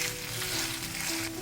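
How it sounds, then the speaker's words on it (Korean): Grated potato pancake frying in hot oil in a pan, a steady close sizzle and crackle that holds without a break. "중간중간 오일을 추가해가며 튀기듯이 구워주세요"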